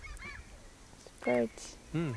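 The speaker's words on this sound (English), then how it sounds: "Seagulls." Seagulls call in a few loud, nasal squawks, two of them strong and close, with faint background between the cries and no talking.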